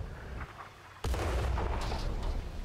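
World of Tanks artillery fire, a single loud booming shot that cuts in abruptly after a quiet rumbling stretch and rolls on with a heavy low echo.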